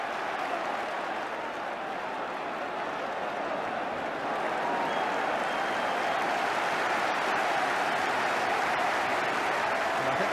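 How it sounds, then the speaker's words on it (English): A football crowd at Tottenham Hotspur versus Wolves in a 1982 Division 1 match applauds and cheers, a broad sustained roar of clapping from a large stadium crowd that swells slightly over ten seconds. "And I think we can say the crowd enjoyed that."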